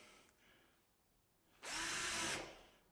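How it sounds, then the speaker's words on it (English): A power drill drives a screw into a wardrobe panel during fitted wardrobe assembly, one close, loud whirring burst of under a second after quiet handling noises, then quiet again. "It doesn't take too long to put the screws in."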